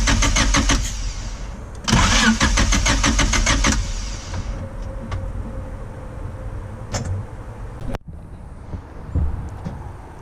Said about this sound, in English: And you want to crank it around like 7 times.